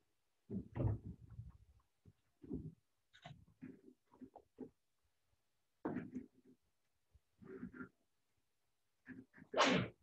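A single loud, close sneeze bursts out near the end of a quiet classroom stretch during a history lesson, after several scattered softer shuffles and breaths.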